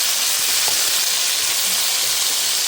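Onions and tomatoes fry in a pan with a dense, constant sizzle, close and loud, steady throughout with no voices.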